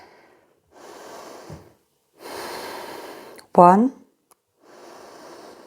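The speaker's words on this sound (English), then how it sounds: "5 breaths here" Slow, audible breaths in and out during a prenatal yoga pose, several separate exhales spaced a second or so apart, with a soft spoken count cutting in between them.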